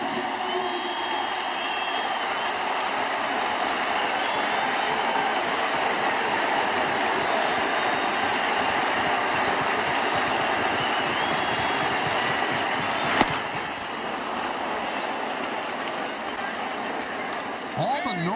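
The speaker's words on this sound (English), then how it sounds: "This is one loud crowd." A large, loud stadium crowd roars and cheers steadily at a Toronto Blue Jays vs New York Yankees baseball game, with a broadcaster's voice talking over the sustained din and a sharp crack partway through.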